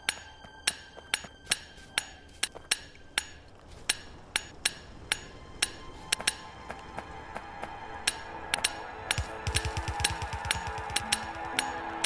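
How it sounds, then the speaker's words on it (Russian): Repeated metallic hammer strikes from wall repair in the video game Factorio, evenly spaced at first and then growing faster and denser, with a low mechanical rumble joining near the end. "Так, стены надо починить кое-какие."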